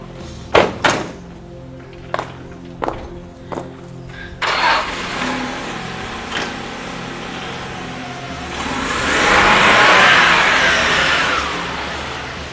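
A series of thunks and a door slam give way to a car engine cranking, catching and idling, then revving louder as the vehicle pulls away.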